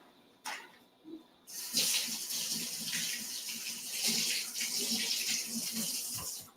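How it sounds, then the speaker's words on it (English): Tap water runs into a kitchen sink while a utensil is rinsed under it, a steady splashing stream after a few brief knocks at the start, close and moderately loud. "Maybe I should just rinse this off."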